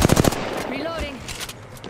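Rapid gunfire strikes a player in the Apex Legends arenas shooter, a dense burst of shots up front followed by a shield-recharge whine and scattered later impacts.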